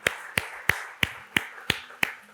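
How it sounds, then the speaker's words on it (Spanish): A church congregation claps for the Lord in a slow, even rhythm, seven sharp, crisp claps spaced about a third of a second apart, moderately loud, with no talking. "Denle un fuerte aplauso al Señor"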